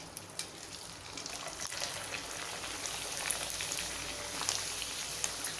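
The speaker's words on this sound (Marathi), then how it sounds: "आपलं तेल छान तापलेलं आहे। आता आपण यात पापड घालणार आहोत।" Ragi papad frying in hot oil over medium heat, a soft, even crackle and hiss throughout, with faint bubbling pops and no talk.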